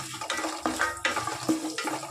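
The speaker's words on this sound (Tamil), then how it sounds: "நிலக்கடலை நல்லா வறுபட்டு வரட்டும்" Peanuts frying in a pan with dried red chillies for carrot rice, a soft sizzle broken by several scraping stirs of a spoon against the pan, close and steady with no voices.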